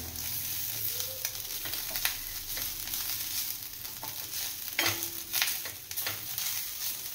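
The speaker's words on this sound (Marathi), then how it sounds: "भाजताना वास खूप छान येतो तुपामुळे. खोबरं तुपात चांगलं भाजलं" Grated fresh coconut stirred and roasted in ghee over a low-medium flame gives a continuous soft sizzle, with scraping stirring strokes and occasional louder spoon-against-pan scrapes, close and steady.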